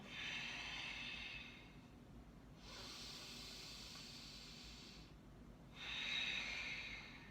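Slow, deep breathing during a held yoga stretch, nose toward the knee: three long, soft airy breaths in and out, close and faint, separated by brief quiet pauses.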